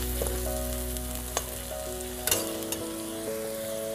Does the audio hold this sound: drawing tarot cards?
no